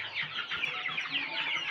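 Month-old Peruvidai chicks cluck and chirp steadily, a busy flock of soft overlapping calls at close range with no talk.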